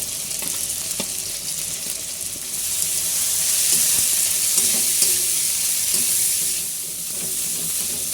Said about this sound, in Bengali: এবার এতে আমরা দিয়ে দিচ্ছি যে মাছটাকে আমরা কাঁটা থেকে ছাড়িয়ে নিয়েছিলাম